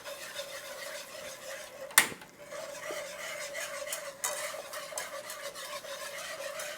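Chicken wing sauce ingredients being mixed in a pan with a whisk, a steady close rasping stir over a faint sizzle, broken by one sharp clank and a later softer knock.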